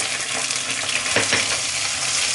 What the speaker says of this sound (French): Et on va faire revenir notre pâte au curry vert.